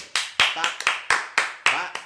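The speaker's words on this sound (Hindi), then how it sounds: "तालियां बजाओ भाई" Brisk, evenly spaced hand claps, about eight crisp, close strikes, applauding a correct answer during a live general-knowledge quiz.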